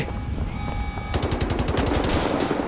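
Rapid automatic fire from a machine gun in the shooter game Wolfenstein: The New Order, a close, loud burst of about a dozen sharp shots in quick rhythm following a quieter moment.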